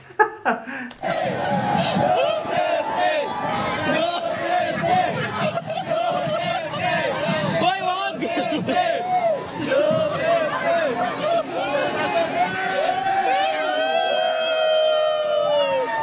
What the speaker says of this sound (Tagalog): Sigawan talaga sila, di ba?